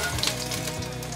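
King oyster mushrooms tipped into a large pot of hot oil with ginger slices, giving a steady, close, broadband sizzle that holds evenly for a brief moment.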